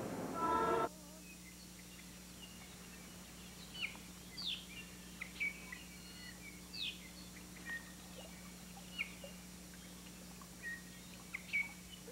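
Native birds sing in Hakalau Forest, Hawaii, with scattered faint, distant chirps and short calls over a steady low hum after a brief burst of noise at the start.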